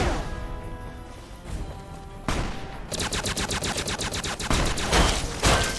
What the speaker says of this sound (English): that anti-material rifle was so close to killing me